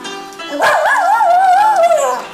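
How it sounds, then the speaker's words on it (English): A dog howls along in a long, wavering, sung tone that rises and dips for nearly two seconds, close and loud, with no talk over it. "Oh, and the dog sings along."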